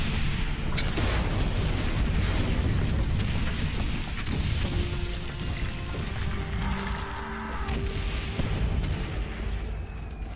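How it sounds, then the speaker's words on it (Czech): Gunfire and explosions from the WWI-set video game Valiant Hearts form a dense, continuous roar of booms and bursts, loud and steady throughout with no talk over it. "tam se střílí pořád."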